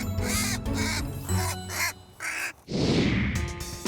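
An injured crow cawing repeatedly at close range, several harsh, rhythmic caws in a row, followed by a burst of rustling or flapping.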